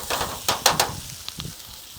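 Polish sausage cooking over low heat on a Camp Chef Tundra Pro griddle, a steady close sizzle broken by several brief louder crackling pops and spits, with no talking.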